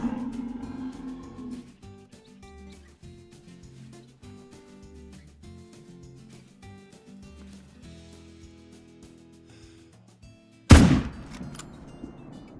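A single loud, sharp hunting-rifle shot rings out in Call of the Wild during a moose hunt. Quiet background music plays before it, and the report fades out afterward.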